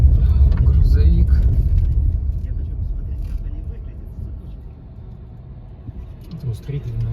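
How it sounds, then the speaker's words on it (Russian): A truck passes on a mountain road heading up toward Ai-Petri, a loud low engine rumble that swells close by and then fades away, heard from inside a car, with voices talking at the start and end. "Грузовик."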